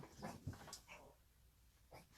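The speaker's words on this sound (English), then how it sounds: "That's why my dog went crazy." A dog barking and whimpering indoors in reaction to mail delivery at the front door, a few short muffled barks followed by quieter whines.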